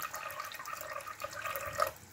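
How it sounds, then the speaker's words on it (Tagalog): Water is poured into a cooking pot holding beef shank for a stew, a steady close splashing and trickling stream that lasts throughout with no speech. "ilagay po tayo dyan ng tubig at ilagay po natin yan ang ating beef shank"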